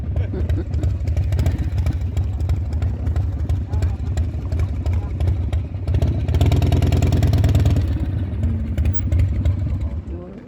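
A steady, low chugging engine rumbles throughout aboard a 170-year-old antique wooden passenger boat in Norway. It swells slightly louder for a couple of seconds midway, with faint voices beneath.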